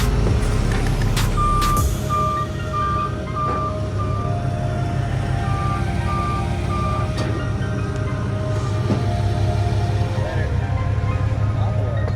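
Intermittent reversing beeps from a forklift sound over a steady low engine rumble in a garage, with a second beep run later and occasional clanks, and no talk.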